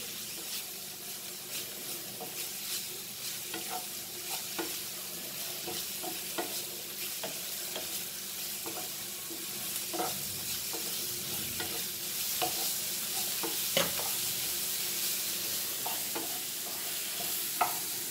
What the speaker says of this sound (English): Fry this very nicely.